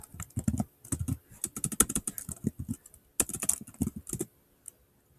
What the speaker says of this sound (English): I type slash rank.